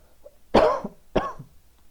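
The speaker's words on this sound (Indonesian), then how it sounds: "sorry ya, saya agak batuk ya" Two sharp coughs about half a second apart, close and loud, with a brief rasp trailing each one and quiet in between.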